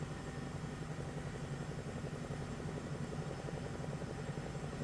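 A steady Bell 222B helicopter rotor and engine drone in the flight simulator MSFS 2024 thrums continuously at an even volume, with a rapid rhythmic chop throughout and no voices.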